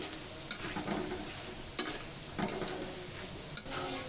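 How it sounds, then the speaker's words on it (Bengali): Boondi batter fries in hot oil with a soft, steady sizzle, punctuated every second or so by the light tap and scrape of a spoon, close and fairly quiet. "তো এভাবে সবগুলো বুন্দিয়া ভেজে নিব।"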